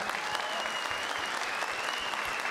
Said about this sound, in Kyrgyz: Ушул маданият инсандарына бир кол чаап бериңиздерчи.